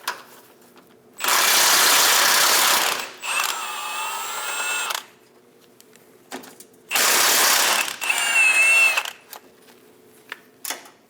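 A ratchet on a 21mm socket loosens the steering gear bolts through the frame of a Chevrolet Express 2500 van, two loud sustained bursts of clicking separated by quiet pauses, with smaller clanks between.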